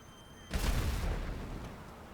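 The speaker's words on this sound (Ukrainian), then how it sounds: "Отам гелікоптер десь і він зараз вибухне" A helicopter explodes in the GTA video game with a sudden heavy boom that rolls into a long, fading rumble, heard loudly and without talk.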